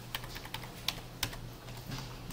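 Keys pressed on a computer keyboard while editing code in VS Code, a handful of sharp, separate clicks with a couple of louder taps, close and fairly quiet over a low steady hum, no talking.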